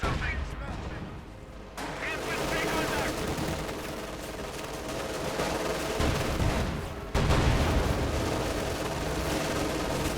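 Machine gun and artillery fire rattle and boom in a Company of Heroes 2 battle, with dense overlapping bursts and explosions continuing throughout, and a commentator talking over the din.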